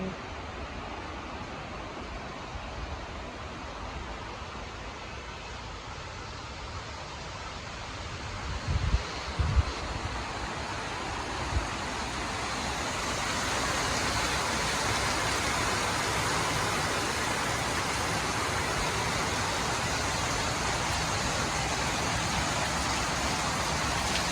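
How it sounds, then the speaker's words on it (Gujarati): Steady rain falling outdoors makes a continuous broadband hiss. The hiss grows slightly denser partway through, and a few brief thumps rise above it, with no talking. "મહેસૂસ કરો કે અવાજ કેવો આવે છે ને વરસાદનો"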